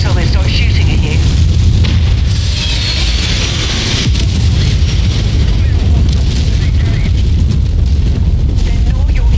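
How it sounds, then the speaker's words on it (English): Enemy artillery in MechWarrior 5 Mercenaries, a loud, continuous barrage of heavy booming explosions and rumbling debris that fills the scene without pause. "Expect enemy artillery to be relentless."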